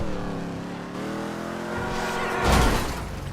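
A car engine revs and accelerates steadily in GTA 5 Online, then a brief louder burst near the end marks a crash, with the engine droning on afterward.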